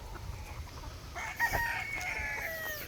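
A tethered young stag rooster crows once partway through, a clear, fairly close call stretching over a second and a half, with faint farmyard background before and after.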